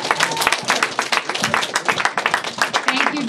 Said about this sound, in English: let's have a round of applause for Yi Wing Chu, our next state senator.